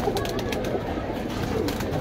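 Saharanpuri pigeons coo softly, in a continuous low murmur heard close by, with no one speaking.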